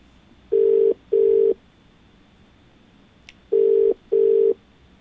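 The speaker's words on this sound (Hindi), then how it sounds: "तो चलिए फोन लगाते हैं अपने पहले कॉलर को" Telephone ringback tones for a call-in caller on a TV question programme: two pairs of steady double rings with a short pause between the pairs, clear and loud over a quiet line hiss.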